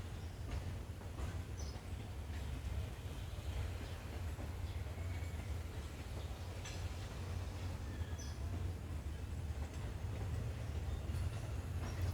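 Thai passenger train 356 from Ban Nong Pla Duk Junction to Bangkok runs along the rails, a steady low rumble of carriages with faint clicks and light squeals, heard continuously from inside or nearby.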